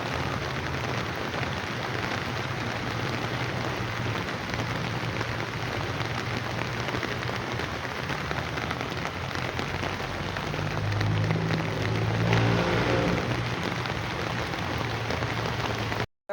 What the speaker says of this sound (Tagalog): Malakas pa rin talaga ang ulan dito sa Bulacan.